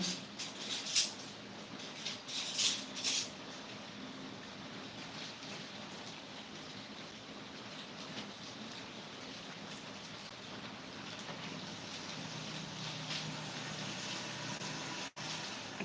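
Steady rain hiss fills the background, faint and continuous, with a few brief louder bursts early on and no talking.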